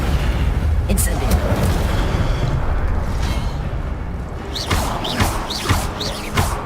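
A fire spell is cast repeatedly in the video game Hogwarts Legacy: a continuous roaring, crackling rumble with booming bursts and sharp swishing flourishes near the end, under a voice speaking.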